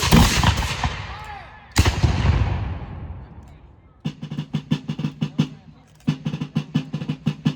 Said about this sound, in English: The infantry is going to continue to fire.